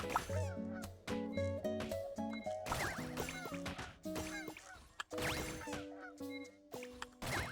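Chickens in the video game Genshin Impact cluck and squawk repeatedly amid busy, dense game sound effects and music, the calls loud and overlapping throughout.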